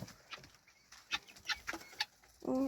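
Laying hens in a farmyard coop give faint, scattered clucks at a distance, with a louder voiced call at the very end.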